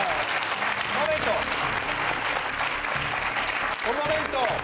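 Studio audience on a television set applauding enthusiastically, a loud, continuous roar of clapping with voices and shouts mixed in underneath.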